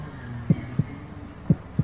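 Close, muffled heartbeat with two paired thumps, each lub followed quickly by a dub, in a slow steady rhythm on its own with no talking.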